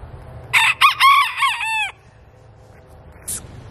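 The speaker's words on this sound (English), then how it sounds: "all the roosters have started crowing" Rooster crowing on a homestead in Northeast Ohio in November, with one bird's loud nearby crow breaking into several strained, wavering phrases, then quiet and a brief distant cluck.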